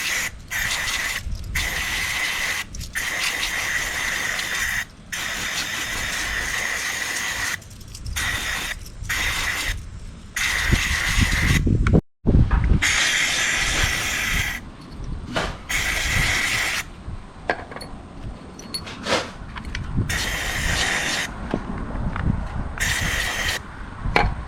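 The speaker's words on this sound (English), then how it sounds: "I sprayed it with brake clean." Brake cleaner sprays from an aerosol can fitted with a paint-can trigger handle onto the brake parts of a 1966 Ford Mustang, long loud hissing bursts broken by short gaps, close and continuous for stretches.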